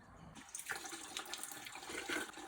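Water flows and splashes steadily, like a small spring trickling nearby into a rusty stream at Tustan, with a bright continuous bubbling.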